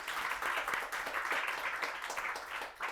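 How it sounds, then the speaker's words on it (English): Audience applause for the speakers at a news and AI conference, a steady, dense clapping of moderate loudness that runs through without talk. "a warm round of applause for our speakers today"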